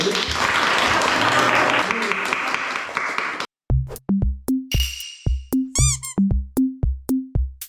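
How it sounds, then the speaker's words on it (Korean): An audience at a youth housing talk show claps loudly for a few seconds, then the sound cuts to sharp rhythmic percussive hits and a bright jingle. "박수로 보내는"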